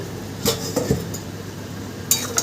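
A metal pot lid lifted off a pot of jackfruit biryani cooking on the stove, a few close, sharp clinks and a ringing scrape over a quiet kitchen background, no talk.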